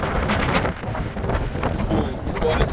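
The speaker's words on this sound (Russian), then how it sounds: "мне кажется, прошел я стену этого ветра" Strong wind, apparently outdoors in cold Swiss conditions, buffets the microphone with loud, gusty rumbling and roaring that surges and dips irregularly throughout.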